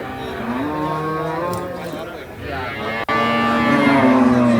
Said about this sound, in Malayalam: ഇടത്തരം സൈസ് പശുക്കുട്ടികളാണ്